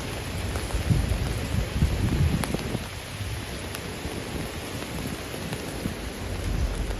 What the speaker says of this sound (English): There's something special about New York City in the rain.